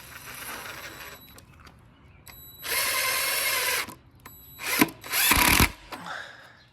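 A power drill drives screws into a wooden board for a homemade umbrella stand, heard as several whirring bursts of different lengths with quiet gaps between them. Two long runs stand out, and the mechanism clicks softly at the end.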